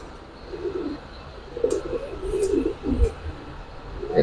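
Pigeons coo on and off at a Bangladeshi pigeon seller's cages holding Giribaz and coloured pigeons. The low murmuring coos come in soft rolling phrases, moderately close, with a few faint chirps and light background noise.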